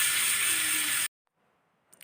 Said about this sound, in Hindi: इसका अब चटनी के ऊपर तड़का लगा देते हैं।